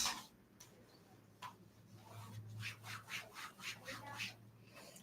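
A classroom board being rubbed clean during a maths lesson, quiet at first, then a rhythmic series of back-and-forth scrubbing strokes, close and faint with no talking.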